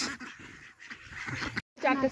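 Ducks quacking in short bursts near the end, beside a village pond, with voices talking outdoors before and around them.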